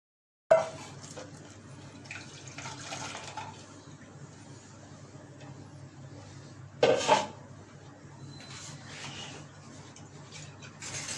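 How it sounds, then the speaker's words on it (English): Falsa juice being strained through a kitchen strainer, giving a steady low trickle and faint clinks, with two sharper clatters of utensil against strainer or bowl, close by and with no voices. "Now I strain it through the strainer."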